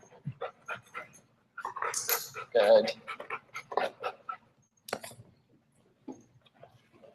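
A pet dog barks on command indoors, a short sharp bark in the middle amid soft panting and whimpers, with someone speaking quietly around it.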